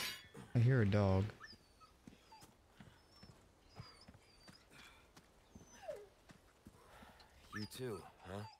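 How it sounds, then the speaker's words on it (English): A dog whimpers and whines in the video game Resident Evil 4 Remake. Short, high, plaintive cries repeat over several seconds, along with other game sounds and a loud burst near the start. "I hear a dog."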